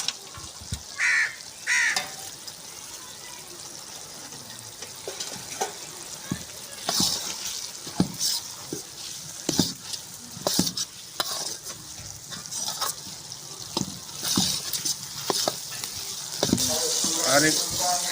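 Green chillies frying with garlic in a pan, a steady sizzle with clicks of stirring and scraping, and occasional crows cawing in the background.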